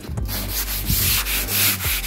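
A 100-grit sponge sanding block rubbed back and forth over a wooden floor, giving steady repeated scrubbing strokes, close and fairly loud, with no talk.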